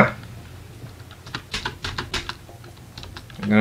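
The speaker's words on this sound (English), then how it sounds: "I'm gonna break my keyboard." Computer keyboard hammered hard during a Serious Sam 3 BFE parkour section, a burst of loud, rapid clacking keystrokes in clusters over a faint game backdrop, with a short noise at the end.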